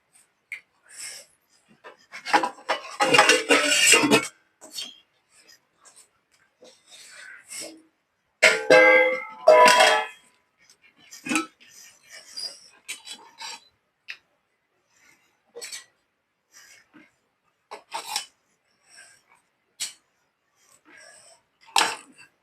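Cooked rice is mixed for star fruit pulihora, giving irregular scraping and rubbing bursts, loud and dense early on, then sparse soft touches, with no talking.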